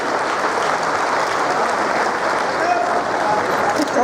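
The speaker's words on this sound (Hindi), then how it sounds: "अपनी जगह पर बैठकर जोरदार तालियों से इस क्षण का अभिनंदन कीजिए" Audience members at an official government launch ceremony clap loudly and steadily, a dense, continuous wash of applause filling the whole moment with no break.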